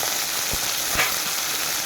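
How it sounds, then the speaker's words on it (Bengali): Chopped potatoes and onions fry in a pan with dried chillies and five-spice tempering, giving a steady close sizzle with a couple of soft knocks from stirring. "সাথে কুচানো আলু দিলাম।"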